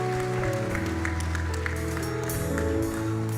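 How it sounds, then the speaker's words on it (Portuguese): A church congregation claps in welcome over sustained, tonal instrumental music, the scattered applause lively and close while the chords hum steadily underneath. "Vamos dar uma salva de palmas"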